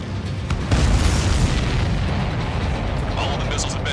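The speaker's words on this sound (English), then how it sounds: "All of the missiles have been destroyed." Missiles explode during an Ace Combat 7 mission, giving a dense, continuous rumble of booms and bursts with a heavy low end.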